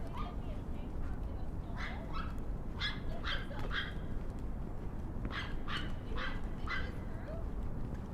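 Several dogs in a Manhattan Upper East Side dog run bark and yip in short repeated bursts at a distance, over steady city background noise.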